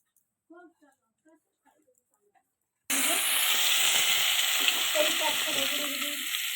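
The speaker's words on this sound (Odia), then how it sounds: "ମାଛ ଚେଁ ଚେଁ ଡାକୁଛି ପୁରା।" Fish frying in hot oil, with a loud, steady sizzle that bursts in abruptly after a few soft, scattered sounds and then holds close and continuous with small crackles.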